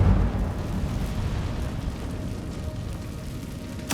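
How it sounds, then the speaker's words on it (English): An Incendio fire spell in Hogwarts Legacy bursts out in a loud rushing whoosh that fades into a low rumbling roar, followed by a sharp crackle at the very end. "Incendio!"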